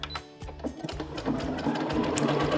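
A Baby Lock Jubilant sewing machine sews a wide decorative satin stitch, a fast, steady mechanical chatter of needle strokes heard up close that grows slightly louder and denser as it runs.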